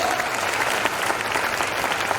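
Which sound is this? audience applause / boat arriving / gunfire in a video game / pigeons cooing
audience applause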